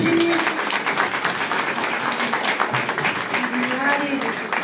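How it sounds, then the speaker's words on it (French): An audience at a tarot talk claps in a steady patter of many hands throughout, with a voice speaking over it. "On applaudit Virginie."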